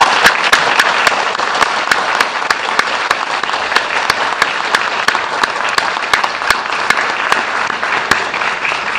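A large evening audience at a state Supreme Court candidate forum applauds the panel: loud, dense, sustained clapping with sharp individual claps, filling the room throughout without any talk.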